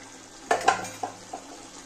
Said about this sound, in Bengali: দেখো এবার আবার একটু হালকা করে নেড়ে দেব।